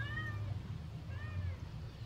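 A cat meows twice outdoors near firewood splitting, two short rising-falling cries a second apart, faint and somewhat distant over low background noise.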